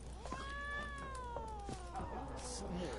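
A cat in The Witcher 3 video game meows once in a long, drawn-out, slightly wavering cry, close and clear over a low steady game ambience.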